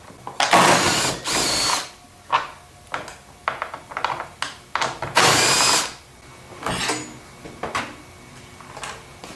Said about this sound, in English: Just work your way around, pulling all these bolts out.